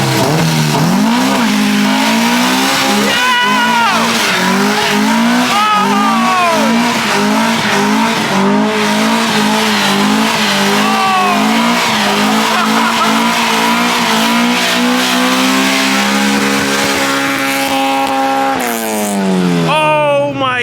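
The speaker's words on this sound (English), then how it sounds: "Here, Kev, you think he's gonna do a third gear burnout?" A sleeper car does a third gear burnout, its engine revving hard and rising in pitch while the tires squeal loudly and continuously, then the revs climb sharply near the end.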